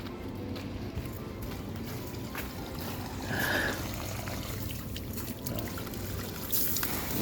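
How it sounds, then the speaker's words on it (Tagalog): Water steadily poured and trickling onto plants during a morning watering, a continuous close splashing wash with slight swells in flow and no talk. "Kaya lang kulang ng tubig, kaya didiligan ko."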